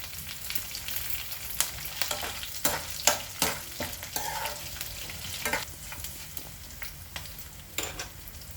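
Chillies, dried red chillies and curry leaves fry in hot oil, a close, continuous sizzle broken by sharp crackles and stirring scrapes, with no one speaking.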